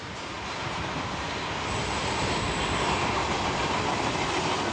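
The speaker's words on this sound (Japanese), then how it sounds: "電車？ あれ武蔵野線。" A Musashino Line train in Japan rumbles past close by, a loud continuous roar of wheels on rails that swells and holds steady.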